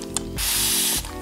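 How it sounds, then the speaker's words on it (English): Bursts of water from a spray bottle misting a section of natural hair during styling, one brief hiss alone and close, with small mechanical clicks of the trigger before and after. "Spray this section with some water"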